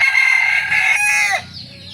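A rooster crows nearby in a backyard in one long, strained call that breaks off near the end, followed by low, soft background murmuring.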